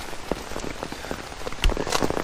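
Heavy rain pounds hard in Mooresville, North Carolina, near Lake Norman, a loud, close, continuous patter with scattered sharp drops and splashes and no talking.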